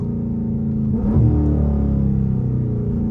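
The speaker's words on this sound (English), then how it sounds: "I'm gonna give y'all boys some downshifts to the light." A Dodge Charger Scat Pack 392 V8 revs during a downshift while driving at night in the rain, a deep rumbling engine tone swelling briefly mid-clip over a steady low drone.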